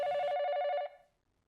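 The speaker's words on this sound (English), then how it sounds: "Ring, ring. Phone rang," A telephone rings in the video game 428: Shibuya Scramble, a bright electronic trill that buzzes steadily for under a second and then stops, leaving a short fading tail, loud and clear with no talk over it.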